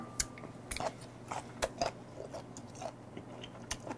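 Large grilled abalone is chewed close to the microphone, with irregular firm bites and wet crunchy chews spread across a few seconds, each burst short and distinct, with no talk.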